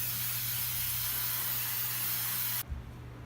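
Spray adhesive hisses steadily from a can onto a 1994–2002 Dodge Ram truck headliner, a continuous loud broadband spray lasting about two and a half seconds before cutting off abruptly, followed by a faint soft knock.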